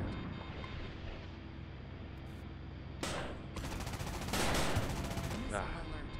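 Aircraft cannon fire in a flight simulator video game rips out in two rapid bursts, the second longer, over a constant roaring engine drone during an air-to-air dogfight.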